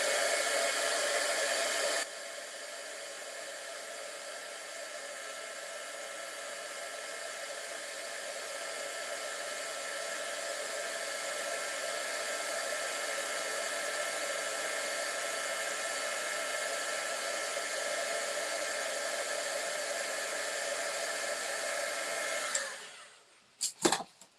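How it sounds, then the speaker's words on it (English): An embossing heat tool blows hot air over a handmade card, a loud, steady whooshing hum that runs for over twenty seconds before switching off with a few faint clicks, with no speech. "this can get loud when I emboss this"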